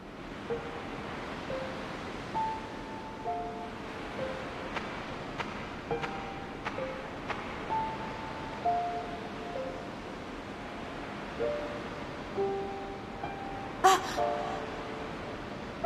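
Ocean waves in Xenosaga Episode 3, a soft steady wash of surf and wind under faint sustained musical tones and a few light chimes, quiet and continuous, with no talk.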